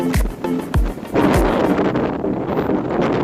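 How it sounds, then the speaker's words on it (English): Steady wind rushing and buffeting a microphone outdoors on open water from the bow of a fishing boat, preceded by a few low thumps, with no voices. "It's a little bit windy today."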